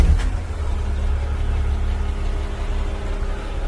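A tractor engine idles steadily right after being started, a low continuous rumble with a faint tonal hum, close and even throughout with no talking.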